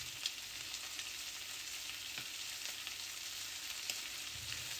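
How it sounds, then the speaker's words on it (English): Prawns sear in a hot frying pan with a steady, even sizzle that holds throughout. Faint clicks and small stirring movements are audible under the constant frying hiss. No one speaks. "place the prawns in without overcrowding the pan and sear on each side"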